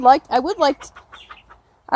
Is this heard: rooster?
yes